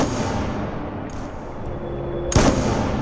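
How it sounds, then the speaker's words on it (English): A single sharp gunshot fires near the end in a Godot game demo using Wwise audio. It sounds loud and close over a steady hum of room ambience. "If we get closer to it, you can hear the gunshot sounds and also the room ambience"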